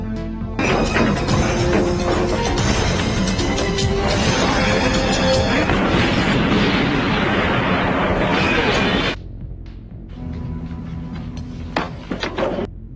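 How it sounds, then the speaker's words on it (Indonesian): A car explodes: a loud, sustained burst of crashing, roaring noise lasting several seconds, then cutting to quieter rumbling debris with scattered small thuds. "Jack berhasil keluar sebelum mobil itu akhirnya meledak."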